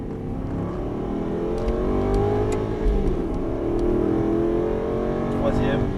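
An Aston Martin V8 roars as it accelerates hard on the Dreux circuit, a loud, sustained engine note rising in pitch, with a voice talking over it throughout.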